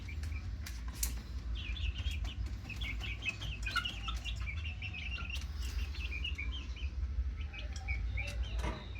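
Two-month-old chickens, including fighting males, cluck and chatter in a steady run of short calls over a low background hum, with occasional sharp knocks.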